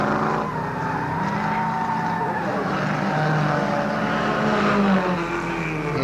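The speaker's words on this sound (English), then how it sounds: "Well, this Falcon's really putting on a show, Brian." A Ford Falcon races at Warwick Farm in 1969 among other touring cars, its engine a loud, continuous roar with shifting pitch as cars sweep past, blended with a broad background of crowd and track noise.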